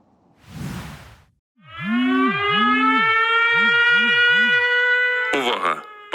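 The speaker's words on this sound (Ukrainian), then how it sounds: "Повітряна тривога. Пройдіть найближче укриття." Ukrainian air raid alert siren blaring loud and close, a steady stack of sustained tones with a repeated low rising-and-falling wail beneath, preceded by a short burst of noise and ending in a sharp cutoff.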